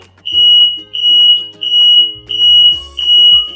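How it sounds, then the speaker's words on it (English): A smoke alarm in a smoke-filled house hallway beeps in a loud, piercing high tone, five long pulses in steady rhythm, close by and with no talking. "we have smoke alarms in our home"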